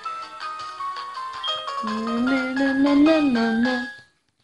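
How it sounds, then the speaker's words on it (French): A phone rings in a Pokémon game, a bright melodic chiptune-like jingle of stacked tones that climbs and holds for about four seconds at steady loudness before cutting off, with no voices. "Ah, téléphone qui sonne."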